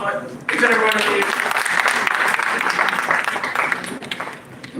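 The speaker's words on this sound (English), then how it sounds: "A round of applause for each and every one of you" Conference audience bursting into loud sustained applause and cheering at an HR mastery conference, starting abruptly after a brief voice and staying dense to the end.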